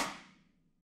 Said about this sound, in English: Or you can play a rim shot that sounds like this.